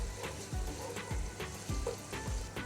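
Ghee and garlic sizzle steadily in a cooking pot, a soft continuous fry with faint rhythmic scraping or stirring knocks every half second or so, no voices.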